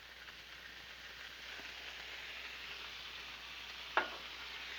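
Onions softening in oil and a splash of soy on a Blackstone flat-top griddle give a steady, soft sizzle throughout, with a single sharp tick near the end.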